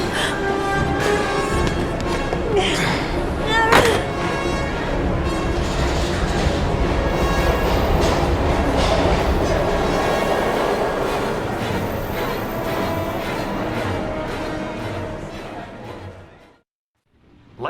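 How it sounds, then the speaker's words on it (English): Train from the video game Heavy Rain rolling along in a steady, loud clatter with rumbling wheels and metallic squeals, fading abruptly to near silence at the end. "We've got to get on that train, Ethan."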